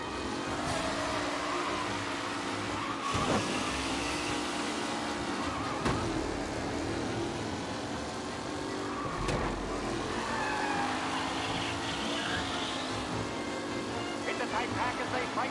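Race cars lapping a track in Mafia Definitive Edition, a continuous loud engine roar with rising and falling revs and occasional passing surges, running under a race commentator's voice.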